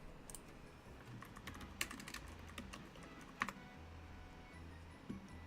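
Close, clicky typing on a computer keyboard with irregular bursts of keystrokes and a few sharper, louder key hits, all heard without anyone talking.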